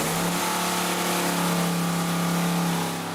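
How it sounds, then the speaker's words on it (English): A car engine running on fuel mixed with mothballs revs in a steady, loud, continuous drone close by, with no voices over it. "The engine sounds great."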